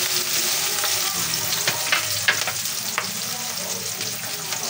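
An overripe bell pepper frying in a pan, giving a dense, continuous close sizzle with occasional light stirring clicks.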